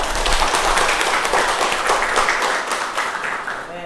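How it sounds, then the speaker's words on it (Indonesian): Classroom audience applauding a student group after a presentation on the spread of Islam in the archipelago, a dense, steady wash of many hands clapping close by that tapers slightly toward the end. "Mari kita beri tepuk tangan."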